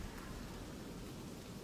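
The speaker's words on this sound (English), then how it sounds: "Why is it raining in here?" Steady, even hiss of rain falling inside the video game Deepworld, a constant wash of patter with a low rumble underneath, no talk.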